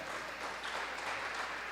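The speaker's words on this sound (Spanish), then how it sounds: "Denle ese aplauso al Señor." Congregation applauding the Lord during a Spanish-language church service, a steady wash of clapping that stays even and moderately loud for a couple of seconds with no voices standing out.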